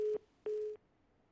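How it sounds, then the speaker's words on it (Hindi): Telephone busy tone after a call disconnects during a TV news phone-in: two clear, steady beeps with a short gap between them, then quiet. "फोन डिस्कनेक्ट हो गया है"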